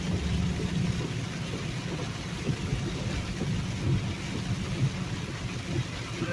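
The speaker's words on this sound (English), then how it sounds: "now the rain is coming down, big time coming down." Heavy rain pours steadily around a truck cab on the road from Cartersville, Georgia, a dense, even roar with low rumbles underneath, maybe thunder or the engine, and no talking.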